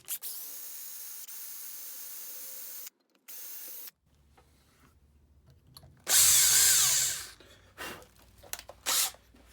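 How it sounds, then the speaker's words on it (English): A 3mm split point drill bit bores into the metal of an infill block plane. The power drill whines in bursts, loudest in one strong run midway, then a few shorter spurts, with quiet gaps and no talk. "I'm using a 3mm split point drill bit for this"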